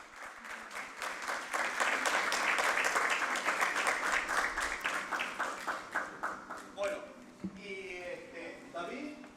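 Audience applause for Jorge Gijena, honored at a Bicentennial ceremony for La Rioja province's autonomy, a dense clatter of many hands that gradually thins and trails off into scattered claps near the end.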